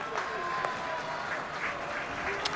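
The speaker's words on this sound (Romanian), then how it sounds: "Mihăiță Lazar întâmpinat cu aplauze" Distant stadium applause at a Romania–Canada rugby match as substituted player Mihăiță Lazar leaves the field, a soft, steady spread of clapping that blends with the crowd's murmur.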